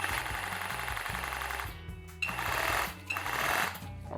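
A Parkside 20V cordless hammer drill, model PKHAP 20-Li C4, runs in hammer mode with a loud, fast, steady mechanical hammering rattle that stops briefly twice before starting again.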